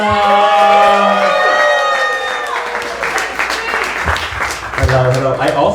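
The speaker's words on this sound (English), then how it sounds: "start clapping up for your host and your last comedian" Comedy club audience bursts into loud applause and cheering as the final comedian takes the stage, a dense wash of clapping and whoops with the host's voice heard over it at the start and end.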